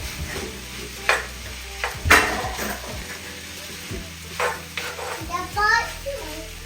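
Chicken fried rice gets stirred in a pan, with scraping strokes and a steady sizzle while a voice chatters intermittently nearby.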